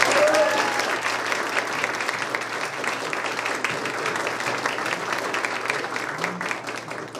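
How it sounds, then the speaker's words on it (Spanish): Sustained audience applause at a university faculty awards ceremony honouring top grade averages, steady dense clapping throughout, fairly loud and even, easing slightly toward the end. "segundo aplauso, por favor."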